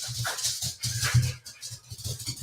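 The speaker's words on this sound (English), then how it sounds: "we got crazy dogs going on here" A small dog barks and yips excitedly in rapid bursts, close and loud, with whimpering between barks aboard a cruising boat.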